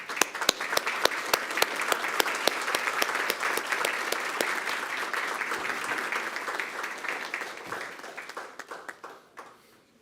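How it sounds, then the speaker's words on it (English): A room full of people at a school district board meeting give a long, dense round of applause, loud and close at first, then thinning out and fading over the last couple of seconds. "let's have a round of applause as these young ladies and men enter the room"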